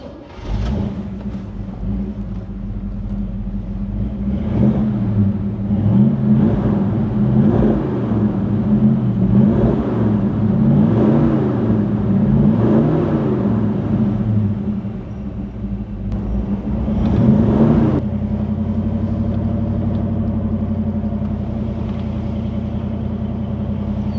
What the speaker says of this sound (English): we want to hear the rumble. Big block Chevelle.